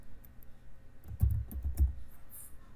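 Quick burst of keystrokes on a computer keyboard while entering JavaScript code, clicking close and fairly loud for about a second amid quiet room tone, then stopping.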